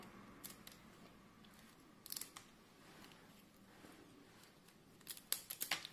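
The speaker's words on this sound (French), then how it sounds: "on a besoin des ciseaux pour enlever le bout des crabes." Kitchen scissors snip the tips off crabs being cleaned, several quiet sharp clicks and crunches at irregular intervals, the last few bunched close together over a soft background hiss.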